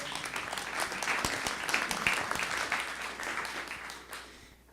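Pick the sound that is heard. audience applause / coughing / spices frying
audience applause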